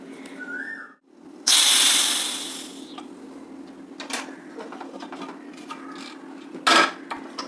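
A pressure cooker of rice vents a loud hissing whistle that bursts out and then fades, followed by lighter metallic kitchen clatter and a second short hiss burst.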